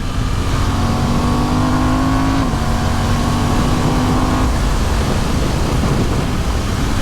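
A Honda CB750 Hornet motorcycle engine with an aftermarket end-can roars steadily with a throaty exhaust note, pitch rising and then dropping off, buried in heavy wind noise throughout.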